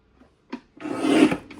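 A paper trimmer blade slides through cardstock while trimming pieces for slimline cards: two small ticks, then a single rasping cut of about half a second, close and clear.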